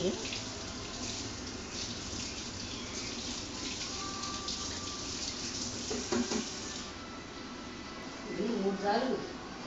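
Water runs and splashes into a small pot, a steady pouring rush with a voice talking over it and a clink near the end.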